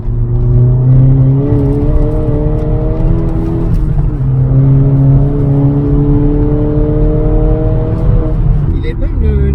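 A SEAT Ibiza Cupra drives along with a loud, steady engine drone and smoothly rising and falling pitch from inside the cabin. Tagging suggests voices may also be present.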